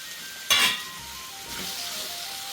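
Onions being added to a pan of frying tomatoes for a potato aloo sabji give a sharp burst of sizzling that settles into a steady, quieter frying hiss with some stirring.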